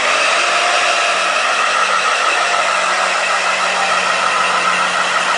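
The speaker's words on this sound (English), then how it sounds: "we'll give her a quick blow dry" A hair dryer blows steadily on a freshly washed chicken being dried for a fair, a loud, close, continuous whooshing hum with no talking.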